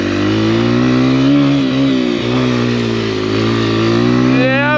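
Close, loud dirt bike engine on a winter forest ride, revving steadily with a sustained buzzing drone and brief dips in pitch as the rider climbs uphill, heard alone without talk.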